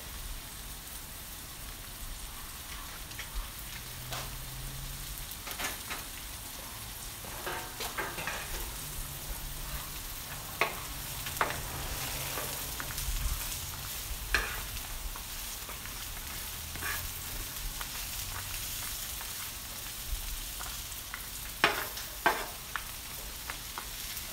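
Hamburger pasta frying in olive oil on a Blackstone griddle gives a steady, close sizzle with scattered sharper crackles and scraping taps throughout, no one speaking.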